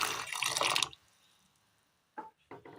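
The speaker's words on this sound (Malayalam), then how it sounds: "അല്പം വെള്ളം ഒഴിച്ചു കൊടുക്കാം." Water poured onto jaggery in a pan: a splashing pour lasting under a second, then quiet, followed by a few short splashes, close by.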